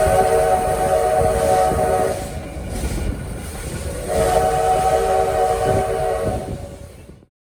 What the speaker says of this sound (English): And the whistle's blowing at us instead of forward out to the highway.